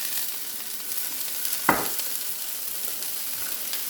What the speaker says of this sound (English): just going to add the leek and the chilli and cook that off for about 5 minutes